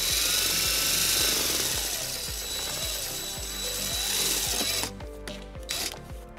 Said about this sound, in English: And then we'll drill our second hole.